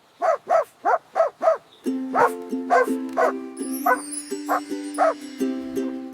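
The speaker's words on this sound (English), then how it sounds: "Woof, woof. I am a dog." A dog barks five times in a quick, even series, loud and near. After that come more barks over a bright, sustained cartoon-style music backing.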